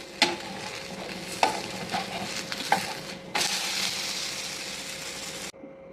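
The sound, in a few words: wheat thalipeeth frying in oil on griddle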